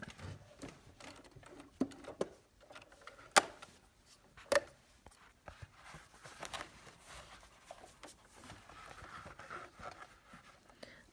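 A sewing machine stitches a rope bowl in short, uneven bursts of rapid ticking and whirring, with a few sharp clicks and quiet pauses between runs.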